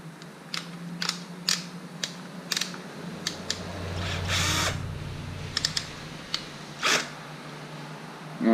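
A tool snugs down the primary cover bolts on a Harley Electra Glide Ultra Classic, producing sharp, close clicks and ratchet-like ticks spaced out in a loose rhythm, with a brief whirring burst in the middle.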